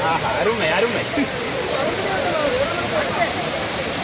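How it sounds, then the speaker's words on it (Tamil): Courtallam waterfall pours down in a dense, steady roar of falling water, close and loud, while people bathe under it and voices speak over the rushing noise. "தற்போது குற்றால அருவியில் குளிக்கிறோம்"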